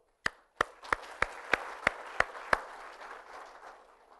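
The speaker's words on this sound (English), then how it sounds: "let's give a big hand of applause to all of you" Eight sharp, evenly spaced hand claps ring out in a large lecture hall at the Vikram Sarabhai Centre, then fade into a softer, sustained patter of audience applause that trails away.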